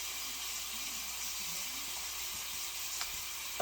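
Ham frying in a pan, a steady close sizzle and crackle running throughout, with a faint scrape or tap near the end and no talking.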